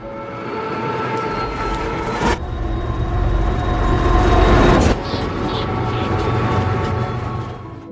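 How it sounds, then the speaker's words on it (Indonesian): A train rumbles steadily along the rails, loud and close, with a sharp clank around midway and the rolling noise swelling before easing slightly. "Kereta pun mulai memasuki tikungan."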